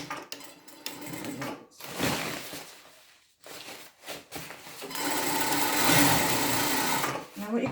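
A sewing machine stitches closed the sleeve of a disposable coverall, running in a couple of short bursts and then a longer steady run, close and clear, with someone talking over it.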